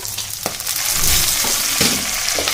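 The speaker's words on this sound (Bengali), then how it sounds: "টমেটো কুচনোটা দিয়ে দিলাম" Chopped tomato and chillies fry in hot oil for a biryani, a dense close sizzle broken by a few quick scraping stirs of the spoon against the pan.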